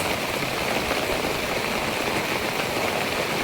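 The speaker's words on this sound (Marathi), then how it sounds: "आता बघा पाऊस इलेलो असत." Steady rain falls outdoors during a trip to Kasartak in the Malvan region, a dense, continuous hiss with no pauses or voices.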